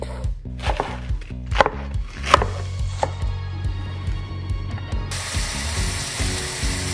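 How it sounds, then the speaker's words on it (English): A knife finely cuts napa cabbage on a board: a quick run of crisp, close chopping taps early on, then softer, scattered cuts with light rustling and background hum. "Next, finely cut 2 cups of Napa Cabbage."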